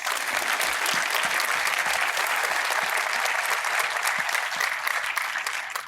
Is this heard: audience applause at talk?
yes